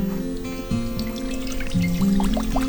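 Ten litres of water pour steadily into a pot for fish soup (ukha) cooked over a wood fire, a continuous close liquid rush lasting the whole moment, with faint tonal background underneath.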